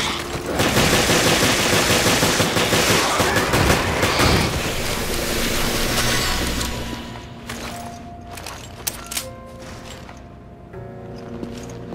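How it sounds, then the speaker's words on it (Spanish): Rapid automatic gunfire in Resident Evil Revelations, loud dense bursts for several seconds that thin out into scattered shots and mechanical clicks against a lingering game ambience. "Tú sigue disparando."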